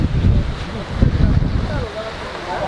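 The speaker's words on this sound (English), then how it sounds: "It's really windy up here." Strong wind gusts on a mountain peak, buffeting the microphone with loud, rumbling low-end roars that rise and fall in uneven surges.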